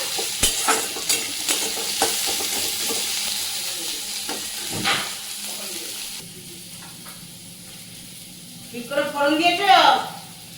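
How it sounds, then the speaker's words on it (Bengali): Tomatoes frying with browned onions in a home kitchen pan make a close, continuous sizzle with sharp spatula clacks and stirring scrapes, and a voice breaks in briefly near the end. "পেঁয়াজটা ভাজা ভাজা হয়ে গেছে এবার টমেটোটা দিয়ে দিই টমেটোটা দিয়ে ভালো করে ভেজে নিই"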